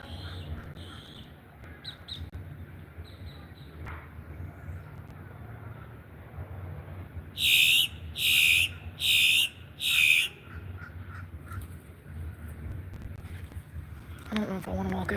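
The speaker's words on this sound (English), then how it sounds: "I see these birds." Birds calling outdoors, a burst of four loud, harsh calls in quick succession partway through, set against steady outdoor background noise with a person talking.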